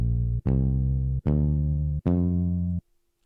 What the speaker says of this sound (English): I added a 1-shot bass, and this is how the bass sounds like.